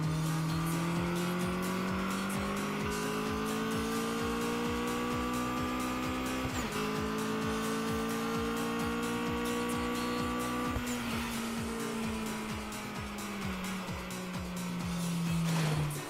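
A race car being driven in the video game Redline Reverie, a loud sustained engine whine rising through the revs with sharp dips at gear shifts and tire squeal, continuous with no talk.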